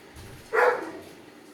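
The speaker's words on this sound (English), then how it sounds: "my dogs are gonna probably bark" A single short dog bark at moderate distance in a home, one brief burst rising out of quiet room tone.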